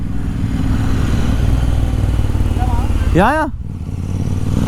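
A stock Royal Enfield Interceptor 650 motorcycle engine rumbles steadily and loudly up close while someone talks over it, and a brief sweeping whine rises and falls near the end.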